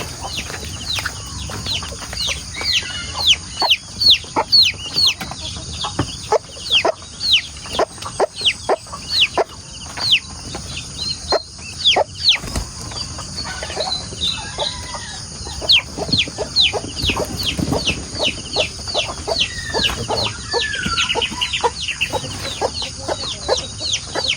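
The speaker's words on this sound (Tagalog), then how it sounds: "Mga puro babaeng sisiw ng itik to nandito naman." Farm poultry chirp and cluck constantly, a dense mix of many short calls layered over one another. Female duckling chicks are among the birds, which sound close and moderately loud with no talking.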